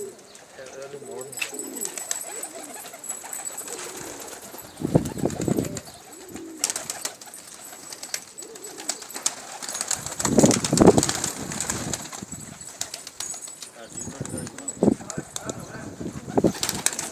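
Pigeons coo in low, soft burbling phrases, with a few brief bursts of flapping wings close by and a voice speaking intermittently over them.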